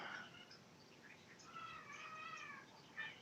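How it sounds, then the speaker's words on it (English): Cats meow and make odd yowling noises indoors, faint and somewhat distant, with several short cries scattered over a few seconds against a quiet room background. "it sounds like my cats are being weird"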